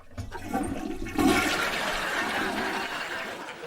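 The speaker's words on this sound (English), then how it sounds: "I couldn't hear you over the toilet flushing" A toilet flushes with a loud rushing swirl of water that surges after a quieter start and keeps draining steadily to the end, with no voices.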